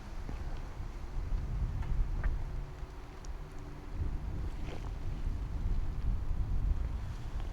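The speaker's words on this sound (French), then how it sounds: "Un beau petit vent." Wind rushes steadily across the microphone of a rider out in the open on a machine with a Rotax engine and CVTech clutch, a broad, constant roar with no talking.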